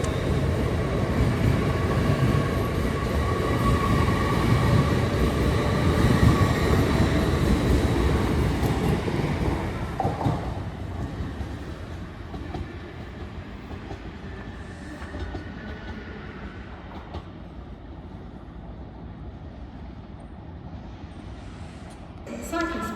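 Trains pass through Darlington railway station, a loud, steady rumble of rail cars dominating the first ten seconds before easing into a lower, continuous rolling hum.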